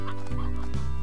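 Chickens cluck in the Slime Rancher video game, a close, steady run of clucks with a couple of sharper accented calls, heard alone with no talk.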